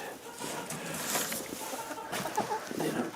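Old hens clucking in a farm enclosure, a few soft, irregular clucks close by over a murky, rustling background.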